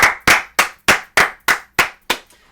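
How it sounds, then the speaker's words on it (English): Eight sharp, evenly spaced claps ring out loud and close, each decaying quickly before the next, a short isolated round of applause honoring Domingo German's perfect game. "can we give one round of applause for Domingo German before we leave?"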